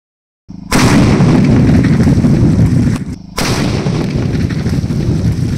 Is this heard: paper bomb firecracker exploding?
yes